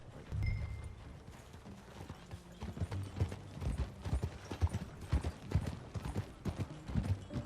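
Horse hooves clip-clop in a steady trotting rhythm while riding in Red Dead Redemption 2, with creaks of tack and saddle mixed in. The sound is close and fairly quiet, with no talk.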